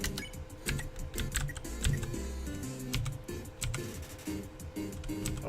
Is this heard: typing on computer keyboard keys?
yes